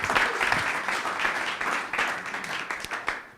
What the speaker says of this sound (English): So if everyone can give him a big round of applause.